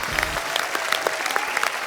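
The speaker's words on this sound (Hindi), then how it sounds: "इनके लिए तालियां" A TV comedy show studio audience breaks into applause, a dense, steady wash of clapping with individual sharp claps poking through, sustained for a couple of seconds.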